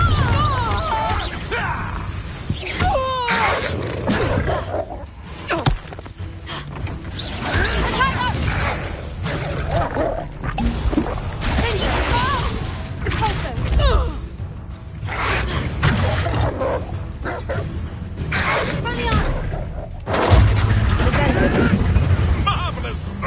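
Fire curse spells from Hogwarts Legacy burst repeatedly amid a busy magical duel, with whooshes, crashing impacts and mechanical clatter throughout and voices talking over the fight.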